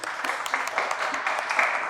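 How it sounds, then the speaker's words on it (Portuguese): A class audience gives a short burst of dense, even applause lasting about two seconds, with no talking over it. "palmas, gente"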